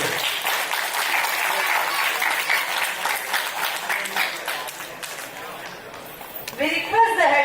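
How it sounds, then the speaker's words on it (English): Audience applause at a university alumni award ceremony honoring Padma Shri and Padma Bhushan Dr. B. Swami, a dense, sustained round of clapping from a large crowd that thins slightly near the end as a voice briefly begins speaking. "with a big round of applause"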